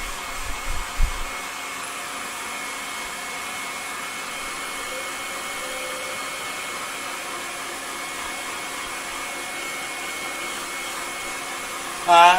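A dryer blows a steady, continuous rush of air over a freshly woodturned piece, loud and unbroken throughout, with a few faint knocks at the start.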